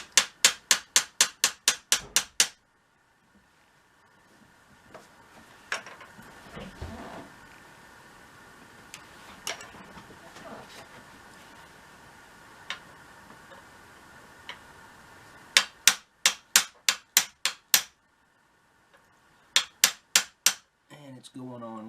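Small hammer tapping a brass bolt to drive a new sight onto an inline muzzleloader, heard as quick bursts of sharp metallic taps at the start and end, with a quieter stretch of scattered knocks between.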